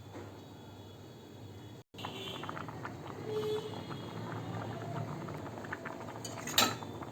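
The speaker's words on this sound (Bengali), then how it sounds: "ভাতটা বেশ 10 মিনিট টকবক করে যখন ফুটলো" Rice boils vigorously in an uncovered pot on a gas stove, giving a low, continuous bubbling hiss, with a few metallic clinks of utensils near the end.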